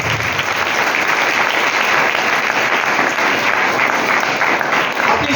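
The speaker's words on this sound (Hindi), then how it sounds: "आए मेरे प्रभु यीशु के लिए जोरदार तालियां।" A church congregation applauds during a Sunday service, producing loud, dense clapping that holds steady and continuous for the whole stretch.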